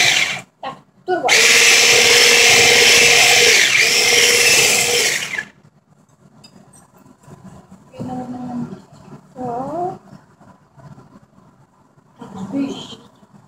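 An electric mixer whips cake cream on turbo speed, a loud, close, steady high whine lasting several seconds before it stops, followed by people talking.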